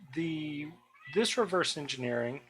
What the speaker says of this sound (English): If you can hear the cat in the background